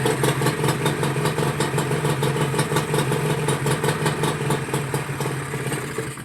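A Honda NSR150R two-stroke motorcycle engine runs steadily on a test, a loud, close, continuous rattling idle with a buzzy tone that holds throughout and eases slightly near the end.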